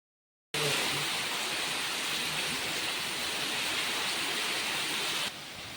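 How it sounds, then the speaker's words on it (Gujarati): Heavy rain pours at a Gir cow shelter, a dense, steady roar that starts abruptly after a brief silence and drops slightly in level near the end. No voices. "સાડા ત્રણ વાગે આટલો વરસાદ પડે ને અત્યારે વાત જ ના પૂછો"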